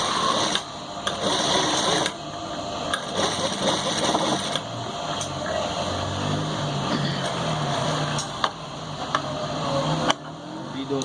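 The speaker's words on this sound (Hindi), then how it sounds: "ये किंकर वाली सिलाई लगाएंगे हम" Sewing machine running a kinkar stitch along an Afghani collar, with fast rhythmic mechanical chatter in bursts separated by brief pauses and clicks, sounding close, while someone talks over parts of it.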